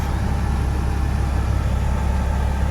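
A vehicle engine idles with the choke fully off once partly warmed, a steady low rumble with constant loudness and no change in pace, no voices.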